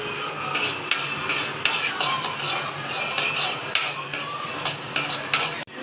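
Fenugreek seeds are dry roasted in a pan and stirred steadily with a spoon, making soft repeated scraping and rattling strokes at close range, with no voices.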